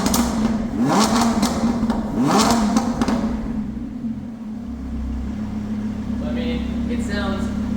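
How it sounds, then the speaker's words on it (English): A Lamborghini Huracan with a titanium HMD exhaust in Corsa mode revs twice in quick, loud surges over a steady idle drone, then settles back to a lower idle. "now I'm gonna rev it up so you can hear what it sounds like when we're revving it in Corsa mode"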